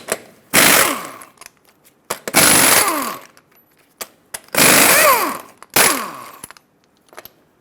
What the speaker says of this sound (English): you can use a 24mm socket, remove all 8 of your lug nuts, and take the wheel off